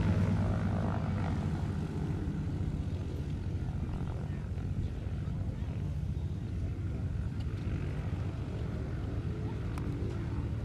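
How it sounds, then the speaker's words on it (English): A Gateway GD1 propeller aircraft on a hard runway, its engine a steady, loud low drone that stays constant throughout at an air show, with faint background voices underneath. "His Gateway GD1, which should be rolling shortly on the hard runway."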